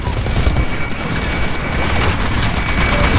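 Rapid turret gunfire and explosions in the video game Titanfall, a loud, dense, continuous barrage of shots and booms with no pauses.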